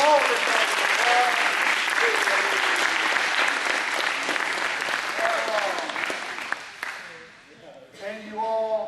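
An audience at an after-prom hypnotist show in St. John, Kansas claps loudly in dense sustained applause that fades out after about seven seconds, with voices rising briefly at the end.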